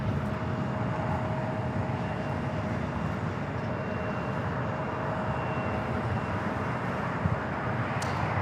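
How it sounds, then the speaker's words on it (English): KLM flight 601 from Amsterdam approaches Los Angeles International Airport on a foggy morning, heard as a steady, distant jet roar that holds without a break and never clearly peaks or fades. "KLM 601 coming in from Amsterdam on the"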